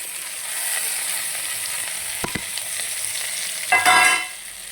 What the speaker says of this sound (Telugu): ఆనియన్స్ టమాటా ఫ్రై చేసుకోవాలన్నమాట